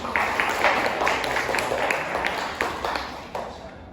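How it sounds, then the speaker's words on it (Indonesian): Seminar audience applause for the day's speakers, scattered clapping from a modest crowd in a room, mid-level and fairly steady before tapering slightly near the end, with voices mixed in. "Beri tepuk tangan untuk narasumber kita pada hari ini."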